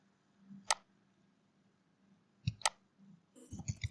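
Computer mouse clicks while editing in bot-building software: a sharp single click, then a close double click, and a quick flurry of clicks at the end, all faint against a quiet background.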